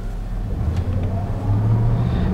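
A 2000 Dodge 2500 4x4 pickup with a 5.9 engine drives slowly in four-low, giving a steady low engine drone that rises slightly as it moves, close and continuous with no talking.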